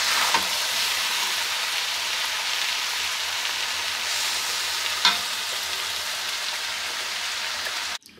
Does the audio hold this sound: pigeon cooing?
no